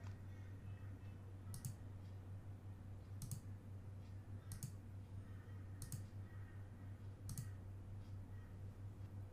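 A computer mouse clicks sharply five times at roughly even intervals while smoothing edges in 3DCoat modelling software, each click crisp and close over a steady low electrical hum.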